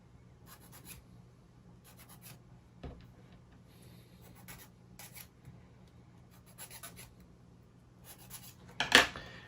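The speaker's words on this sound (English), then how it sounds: "we just need to wax them, sand them, and wax them" Wooden mechanical model kit parts being sanded and rubbed with wax, heard as short bursts of dry scratchy rubbing separated by quiet gaps, with a louder scrape at the end.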